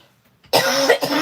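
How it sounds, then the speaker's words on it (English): A woman gives a sudden, loud cough burst followed by a second shorter cough, close and alone with no talk. "I can just feel this cough coming."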